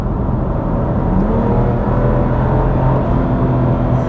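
A BMW M2 Competition's S55 engine revs in Sport mode, a loud, steady, close rumbling drone with rising pitch, heard alone without talk.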